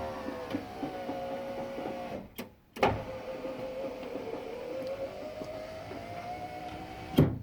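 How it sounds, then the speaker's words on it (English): The electric window of a 1990 Range Rover two-door, fresh from a left-to-right-hand-drive conversion, whirs as the motor runs at a steady pitch, broken by a couple of sharp clunks as it stops and restarts. "we need to just double check the window operation again"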